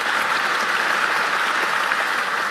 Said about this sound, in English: please give him a round of applause as well